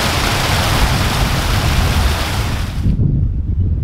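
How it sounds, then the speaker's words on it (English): Rushing creek water on a rural property, a steady broadband roar of flowing water close by that drops off sharply near the end, leaving a softer low rumble. "This creek is rolling."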